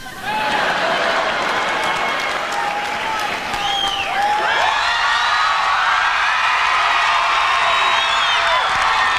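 A large arena crowd at the 1994 MTV Video Music Awards roars with sustained applause, cheering and whoops, loud and continuous with scattered shouts rising above the din.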